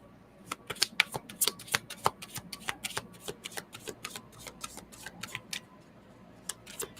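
Tarot reading cards are shuffled by hand, a quiet, irregular stream of crisp flicks and taps close by, with no talk.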